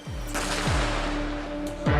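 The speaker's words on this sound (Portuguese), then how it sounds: "Duas granadas detonadas nesta segunda-feira pelo esquadrão antibombas." Grenade detonated by a police bomb squad during a gang conflict, a deep booming blast rolling out over continuous low rumble, followed by a second thud near the end.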